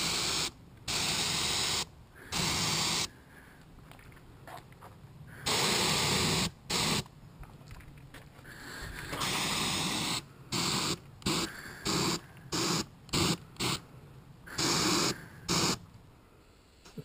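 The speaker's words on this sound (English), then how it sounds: "So here we go with the black spraying." Black paint is sprayed onto the body of a Land Rover Discovery 1 during corrosion repair, heard as a series of loud, close hissing bursts of varying length separated by short pauses.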